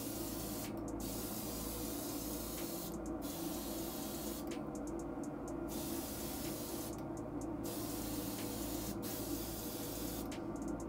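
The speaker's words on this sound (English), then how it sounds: "I'm overlapping the part, spraying it nice and wet" Spray gun applying a wet coating to a police revolver, a steady continuous hiss of atomized spray running throughout, close and fairly loud, with several short breaks where the trigger is released.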